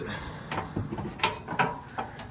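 A junkyard VW Beetle's old, rusty door is opened, giving a series of metallic clunks, creaks and latch clicks at close range, with no talk over it.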